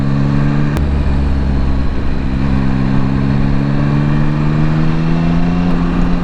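Yamaha Tracer 9 GT motorcycle being ridden, its engine a steady loud drone with a rising pitch that shifts as it pulls, mixed with rushing wind.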